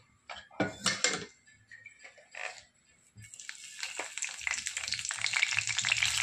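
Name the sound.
tempering frying in hot oil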